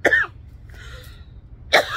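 A single sharp cough bursts out at the start, followed by a quiet pause with a faint tonal sound, then a second harsh cough near the end, close and fairly loud against low background rumble.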